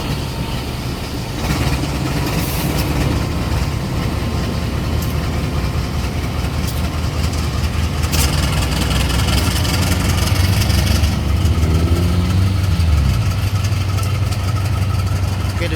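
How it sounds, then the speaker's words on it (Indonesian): A diesel locomotive idles during shunting with a steady low rumble throughout, joined by metallic clanks and a rising engine note near the end. "itu dia lansiran eks kereta pembangkit KLB uji coba ya"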